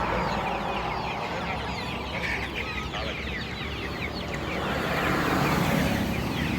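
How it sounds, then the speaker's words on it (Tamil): Country chickens kept on a roadside vendor's cart cluck continuously in a dense, busy chorus over outdoor street noise. "வண்டியிலேயே நாட்டுக்கோழி வச்சுருக்காரு"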